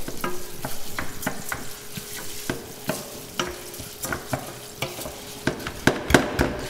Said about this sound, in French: je fais nacrer mon riz avec les oignons